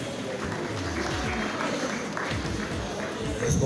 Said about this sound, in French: On peut applaudir pour ce témoignage.